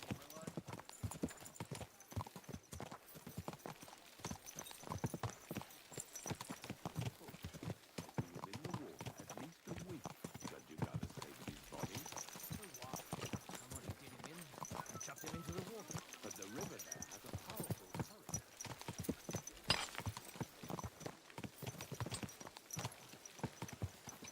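A horse ridden in Kingdom Come: Deliverance 2 clip-clops steadily on the road for a long stretch, hooves rhythmic and fairly quiet beneath game music, with people talking over it.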